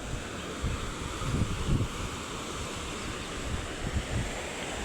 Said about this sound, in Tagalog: So lakas ng alon, oh.